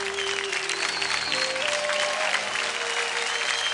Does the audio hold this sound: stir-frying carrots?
no